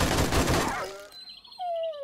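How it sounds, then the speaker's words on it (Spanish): Gunfire in 7 Days To Die with the A20 Rebirth mod: a rapid burst of shots crowds the first second, then fades into thin, ringing tonal game sounds. "Chicos, lo pueden cagar a tiros."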